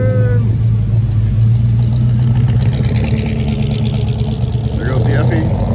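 A car pulls away during a roll-out from a car show on a historic main street, its engine droning loud and steady throughout, with people talking and cheering over it.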